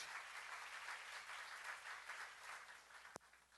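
A church congregation applauds during a sermon on the Psalms, a faint, distant, continuous patter of many hands with one sharp knock near the end.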